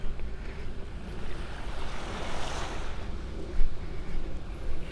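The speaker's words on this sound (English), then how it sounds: "This is the beach at the Vanderbilt Beach and Harbor Club down at the south end of Vanderbilt Beach." Surf on the Gulf beach at the south end of Vanderbilt Beach in North Naples, a steady broad wash of breaking waves mixed with wind rumble, one slightly stronger surge near the end.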